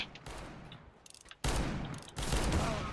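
Pistol fire in Counter-Strike: Global Offensive arrives as two loud, dense bursts of rapid shots. Quieter scattered game noise comes before them.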